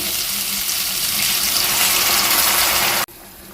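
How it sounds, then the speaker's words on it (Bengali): Warm water pours into a pan of pointed gourd and prawn curry, a steady loud rushing gush that stops suddenly, followed by a soft low hiss. "এবার আমি দিয়ে দেবো উষ্ণ গরম জল"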